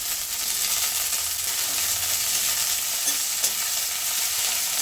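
Green chillies frying in a pan with ginger for a vegetarian chilli paneer: a continuous loud sizzle close by, with faint scraping and ticking from stirring underneath.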